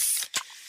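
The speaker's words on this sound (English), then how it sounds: "that's the sound of a freshly opened fizz-filled Pepsi" A Pepsi can is cracked open, a quick pop and crack followed by a soft, steady fizzing hiss up close.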